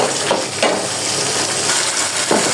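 Spice paste for chicken biryani fries in hot oil while being stirred, a steady close sizzle broken by a few louder scraping stir strokes.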